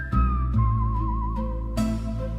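A singer whistles a wavering melodic line during a song from an album, the clear tone held over soft accompaniment, with a brief stronger accent near the end.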